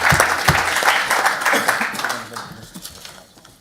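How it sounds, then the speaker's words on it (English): A short round of applause in a county council chamber, a moderate group of hands clapping briefly and unevenly before tapering off quickly into quiet room noise. "And if we can give a round of applause,"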